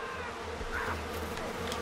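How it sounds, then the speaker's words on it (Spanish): Swarming bees in the open-world shooter Far Cry 5, a continuous low droning buzz hanging close and steady with faint game ambience around it. "Las putas abejas."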